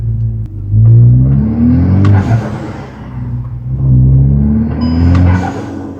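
A Volkswagen Golf R engine revs up twice, deep rumbling exhaust rising and falling in pitch, loud and close.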